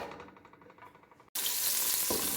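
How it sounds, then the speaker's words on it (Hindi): Finely chopped small onions drop into hot oil for a kadhi pakora, bursting into a loud, steady sizzle after a brief quiet moment of faint kitchen sounds. "जब तक ये गर्म होता है, इसमें हम डालेंगे थोड़े से प्याज"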